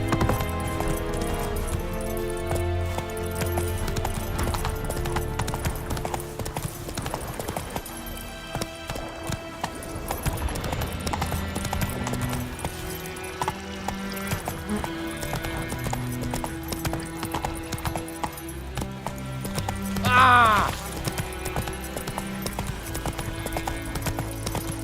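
Roach, the horse in The Witcher 3, gallops in a steady clip-clop of hooves throughout, layered over game music, with a short whinny near the end.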